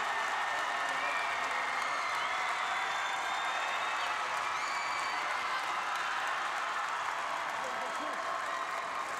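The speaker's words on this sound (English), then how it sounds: "And what a roar from this crowd." A packed crowd at a girls' high school basketball championship game roars and applauds in a loud, steady wash of cheering and clapping, with a commentator talking over it.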